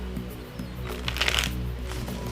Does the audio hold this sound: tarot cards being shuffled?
yes